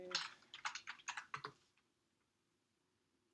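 A computer keyboard clatters as a command is typed to manage keys for a SaltStack master and minions on macOS and a Raspberry Pi 4. Quick, close bursts of keystrokes run for about a second and a half, then the room falls quiet.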